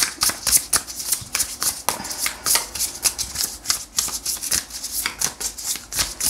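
A tarot deck is shuffled and cut by hand, a close run of quick crisp riffling and slapping card bursts in an uneven rhythm, with no voice.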